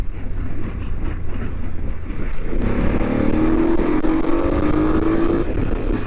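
A 2024 BMW F900 GS Adventure motorcycle engine revs and accelerates under heavy wind rush, its droning note rising steadily in pitch midway through the ride.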